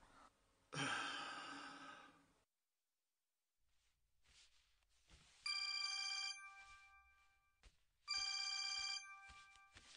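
A telephone rings in two bursts of electronic trilling, each a second or so long with a pause between. Before them a loud sigh or breath is heard, then a stretch of near silence.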